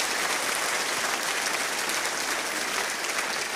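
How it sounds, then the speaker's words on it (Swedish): A church congregation claps together in dense, even applause that stays loud and unbroken throughout, with no voices rising above it. "Låt oss ge Herren en stor applåd."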